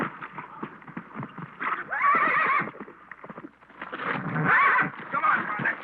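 Horses whinny loudly twice amid steady hoof clatter and shuffling, close by, with the calls rising over the busy background.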